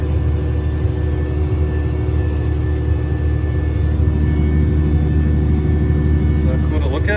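Steady low engine rumble of a tractor seeding a field under auto steer, a continuous heavy drone filling the cab throughout, with faint voices and a brief rattle near the end.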